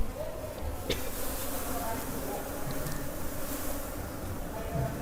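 A dense, steady buzzing of many Apis cerana indica honeybees being moved into a bee box, close by and continuous, with no pauses throughout.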